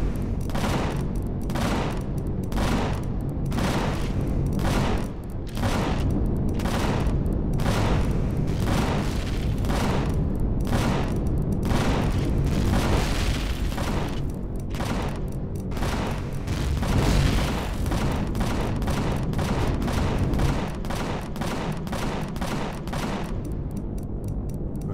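Rapid bursts of gunfire from the video game Empyrion Galactic Survival, a long run of sharp repeated shots in quick rhythmic volleys, loud and close, with no talking over it.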